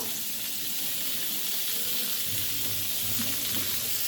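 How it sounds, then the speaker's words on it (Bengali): Pieces of pointed gourd (potol) fry in mustard oil in a pan with a loud, steady hissing sizzle close up, and a low bubbling rumble swells in during the second half. "পটলগুলো উল্টে দিয়েছি, এখন অপর পিঠ ভালো করে ভেজে নিতে হবে।"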